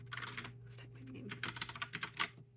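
Keystrokes clatter on a Logitech Pop Keys mechanical keyboard, a quick run of close, crisp clicks in an uneven typing rhythm over a steady low background hum.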